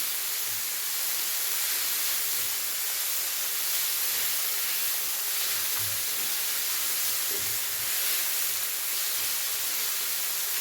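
Tomatoes frying in a pan with noodles make a continuous, even hissing sizzle throughout, with faint low clinks and taps of stirring underneath and no voices.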